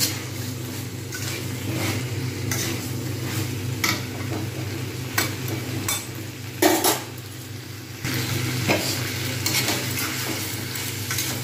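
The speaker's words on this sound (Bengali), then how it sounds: "জাস্ট একটু নেড়ে নেব।" A chickpea and potato curry with fresh coriander leaves is stirred in a pan, giving steady scraping and clinking over a constant low sizzle, with a few sharper knocks of the spoon against the pan's side.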